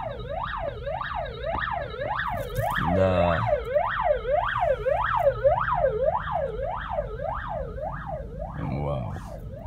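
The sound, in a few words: emergency vehicle siren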